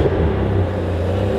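A Ferrari engine revs briefly as the accelerator is tapped while the car sits with the brake held, giving a steady, close, loud rumbling growl for about a second and a half, with no talking.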